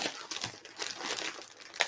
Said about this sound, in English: Okay, rip this open.